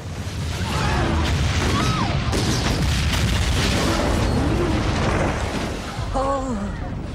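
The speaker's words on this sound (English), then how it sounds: "the ship that gets blown up when they confront Cornwallis" A ship blows up in a movie battle scene, a sustained loud roaring blast with crashing debris, while voices talk and shout over the din.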